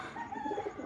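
A plain pigeon gives a brief, soft, close coo, a low throaty burble standing alone without voices.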